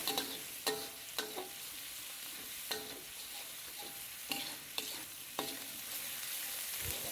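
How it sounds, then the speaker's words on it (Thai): Pounded garlic and coriander root stir-fry in a wok with a little oil that is not yet hot. Irregular spatula scrapes and clanks sound close over a soft, steady sizzle, with no talking. "ใส่กระเทียมกับรากผักชีที่เราโขกแล้วลงไปผัดเลยครับ ผัดให้เหลืองหอมเลยนะครับ"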